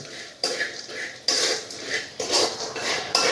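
Spicy peanuts are tossed with garam masala and coriander powder in a home kitchen, giving a few moderate scraping, rattling strokes at an uneven pace with no voices.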